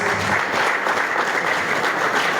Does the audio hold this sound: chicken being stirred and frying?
no